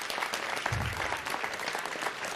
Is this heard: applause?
yes